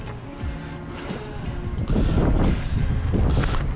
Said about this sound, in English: try to battle this wind here